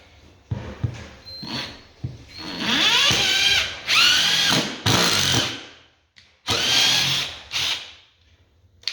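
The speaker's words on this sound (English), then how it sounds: "and then I'll put a few screws in this one as well" A power drill drives screws into a wooden floor patch in several close, loud bursts, its motor whining up and winding down between pauses.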